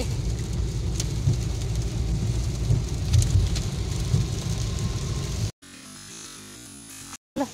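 Steady heavy rain pours on a surface with low rumbles of thunder rolling through, loud and continuous, then cuts briefly to a quieter stretch near the end.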